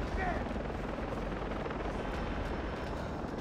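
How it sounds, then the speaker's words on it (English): Helicopter in the video game Far Cry 3, a steady loud rotor drone with dense low rumble filling the whole stretch, continuous and close. "Helicopter."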